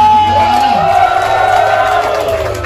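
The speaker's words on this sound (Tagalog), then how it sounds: "palakpak" A crowd at a FlipTop rap battle cheers and whoops loudly, with sustained yelling voices rising over a continuous roar, close and energetic.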